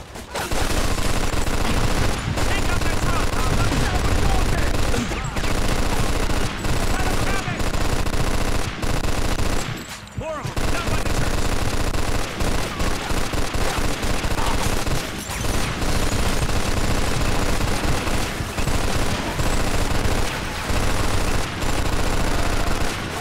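Machine gun fire in the Mafia 2 video game, an MG 42 firing loud, sustained rapid bursts that fill nearly the whole stretch, broken by one short pause and a few brief gaps.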